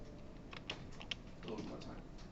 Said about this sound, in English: Anybody need typo correction or more time to type?